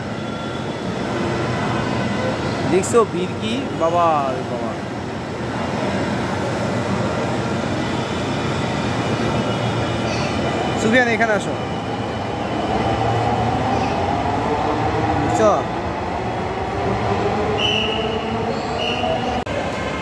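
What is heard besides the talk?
metro rail train at station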